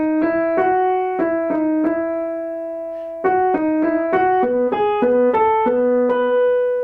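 A single melodic line on a keyboard playing the alto entry of the fugue subject from Bach's Sinfonia No. 12, crisp plucked notes stepping through a short phrase, pausing on a held tone before continuing, clear and close.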